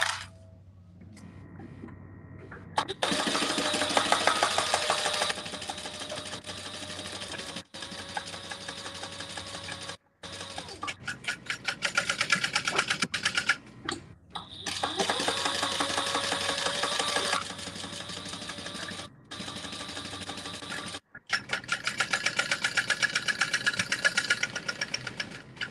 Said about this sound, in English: we're gonna stitch down the sides, across the bottom, and back up